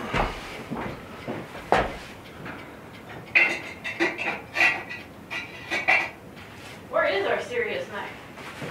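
Metal clattering and knocking as a metal basket on the floor is rummaged through for a knife, several sharp rattles and clanks close by, with a person talking over parts of it.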